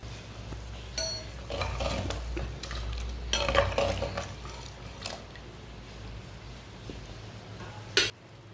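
Soaked rice being stirred into boiling water in a pot, with scraping spoon strokes and clinks against the pot over a bubbling background, ending in a sharp metallic knock.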